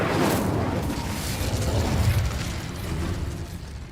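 Incendio fire spell from Hogwarts Legacy erupting in a dense, roaring burst of flame that fades slowly over a few seconds, loud and close, with no talk over it.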